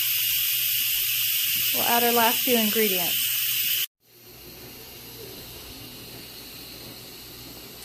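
Steam hisses loudly and steadily from an Instant Pot pressure cooker making cheeseburger soup, with a person talking over it before the release cuts off abruptly, leaving a quieter background hiss.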